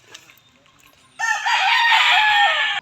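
After a brief quiet stretch, a chicken lets out a loud, drawn-out call close by, sustained for over a second before cutting off.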